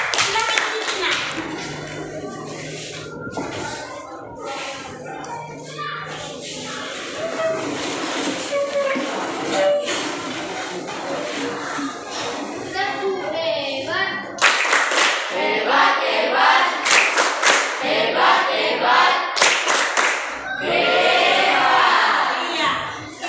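Students in a classroom applaud a group, with bursts of clapping that swell in the second half, mixed with voices talking throughout.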